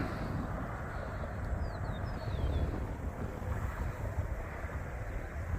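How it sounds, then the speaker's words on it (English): Strong wind buffets the microphone in a constant low roar at Monks Mound, Cahokia, with no voices and only faint hints of birds far off. "It is windy today."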